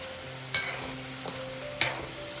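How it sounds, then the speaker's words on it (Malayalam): Papad frying in hot oil until golden, a soft steady sizzle with a few brief stirring clicks and scrapes, close and alone. "പപ്പടമൊക്കെ നല്ലൊരു ഗോൾഡൻ നിറാവുന്നത് വരെ ഫ്രൈ ചെയ്തെടുക്കുക."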